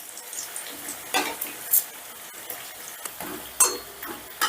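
Semolina pakoras fry in hot oil with a soft, crackly sizzle, punctuated by occasional sharper pops and light stirring or turning sounds, fairly quiet and with no talking.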